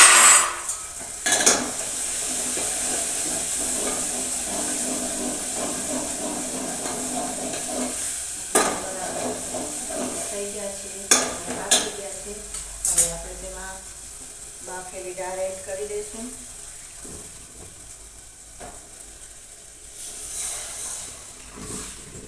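A spoon stirs dal with turmeric, onion, coriander-cumin powder and red chilli in a pot, giving scraping and clinking sounds over a soft hiss, with occasional sharper metal knocks.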